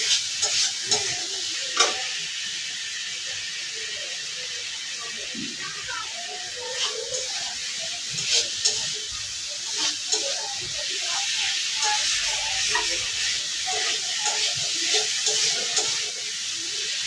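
Spices being sautéed for fish curry in a pan, a steady low sizzle and hiss with occasional stirring clatters, close by, while a voice speaks intermittently over it.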